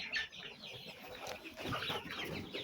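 Chickens and chicks on a small poultry farm cluck and peep faintly in a jumble of short overlapping calls, with no talking heard.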